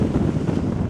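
Strong wind at sea buffets a fishing boat, a dense, continuous roar of wind noise with low rumbling, loud and close throughout the short moment, no voices.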